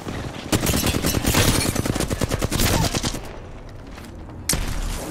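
Rapid bursts of gunfire from an Apex Legends firefight, with a Kraber sniper rifle in play, crack loudly in a dense run for about three seconds, ease off, then a single sharp shot lands near the end.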